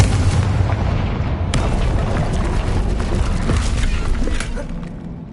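A Confringo spell explosion in Hogwarts Legacy, a loud booming blast that rumbles on with a sharp secondary crack partway through, then slowly fades out near the end, with no talking.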